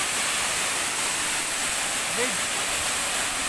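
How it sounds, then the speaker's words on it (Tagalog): Waterfall in a forest heard as a steady, broad hiss of falling water, continuous and fairly even throughout, with a brief faint voice or whistle-like sound partway through. "pababa kami para malapitan talaga natin yung waterfalls"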